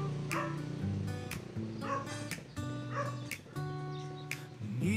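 Several dogs, including an older one, bark and yip repeatedly in quick bursts, with a little whimpering, close and fairly loud throughout.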